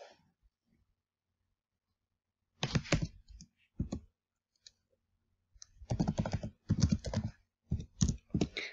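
Keys clicking on a computer keyboard as a flashcard title is typed, starting after a quiet pause with short bursts of close, crisp taps separated by brief gaps.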